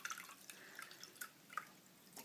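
Fire cider liquid is poured into a jar, faint light drips and trickles splashing irregularly at close range with no voices.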